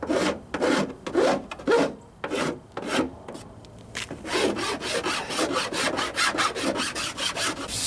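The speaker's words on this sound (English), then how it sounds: "Just take your file." Rough burrs on a Jeep Wrangler YJ fender flare being worked with a hand file, giving a steady run of close, loud rasping strokes in an even back-and-forth rhythm, with no talking.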